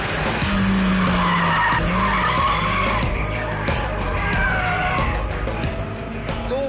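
A Honda Civic Type R squeals its tyres in a long skid, loud and close, with engine noise around the sustained screech.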